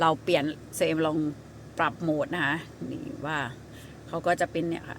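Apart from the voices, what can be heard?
No everyday noise stands out behind the speech.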